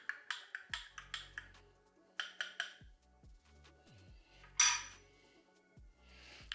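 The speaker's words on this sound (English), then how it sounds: "We'll give that a quick stir." A spoon stirs espresso in a cup, giving a run of quick, close metallic clinks against the sides, several short bursts with brief pauses and one brighter ringing tap near the end.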